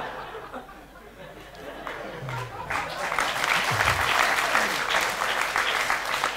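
Audience applause at a stand-up comedy show, building from scattered claps into a full sustained wave of clapping from a crowd, with some laughter and chatter mixed in.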